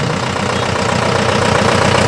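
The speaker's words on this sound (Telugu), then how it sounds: "తొలి అంకంగా అలంకరించబడిన వాహనం బయలుదేరింది" A decorated parade vehicle at a Republic Day celebration pulls away with a loud, close, rumbling engine that stays steady and grows slightly stronger over the short stretch, with no talk over it.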